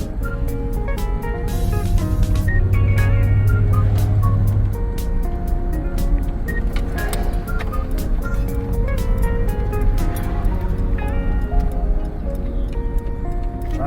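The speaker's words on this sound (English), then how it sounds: "Driving with the emergency brake." A car driven on the road with its emergency brake engaged and worn front brakes, giving a steady engine and road rumble with a faint rhythmic ticking throughout and no talk.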